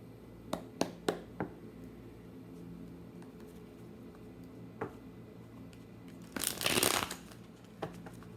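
Tarot cards being shuffled by hand, with a few sharp taps early on and one longer burst of riffling near the end over a soft steady room hum.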